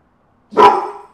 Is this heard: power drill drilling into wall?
no